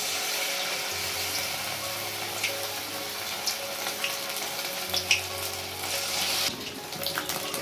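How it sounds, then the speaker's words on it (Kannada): Paneer cubes dipped in batter hiss and bubble in hot oil with a dense, even crackle, close up. A faint low hum runs underneath and a few light clinks cut through near the end. "ಈಗ ಒಂದೊಂದೇ ಪನ್ನೀರ್ ಕ್ಯೂಬ್ಸ್ ತೊಗೊಂಡು ಹಿಟ್ಟಲ್ಲಿ ಡಿಪ್ ಮಾಡಿ ಎಣ್ಣೆ ಹಾಕ್ಬಿಟ್ಟು ಫ್ರೈ ಮಾಡ್ಕೊಳ್ಳೋದು."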